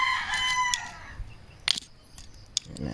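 A rooster lets out a single crow right at the start, then a few sharp clicks and rustles follow in a backyard garden beside a spring onion bed.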